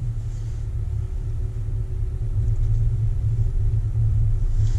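Interior rumble from a car out for a summer drive, a steady low engine and road drone that grows slightly louder partway through, with no voices.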